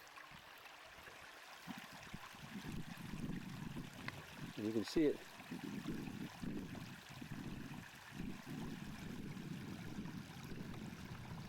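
Spring water bubbles and trickles out of rocks on the Irish coast, a soft, continuous babbling beneath a voice talking close by.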